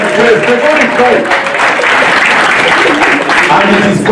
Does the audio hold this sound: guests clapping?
yes